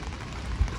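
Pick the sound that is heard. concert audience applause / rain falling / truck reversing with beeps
rain falling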